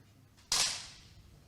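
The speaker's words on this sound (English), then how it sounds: "That was a confident shot from Scott Anderson." A single sharp rifle shot fired at a competition shooting range, loud and close, with a bright crack that tails off over about a second of echo against quiet background noise.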